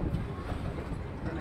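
The Agartala special train rumbles into Agartala station, a close, dense rolling roar over the whole short moment.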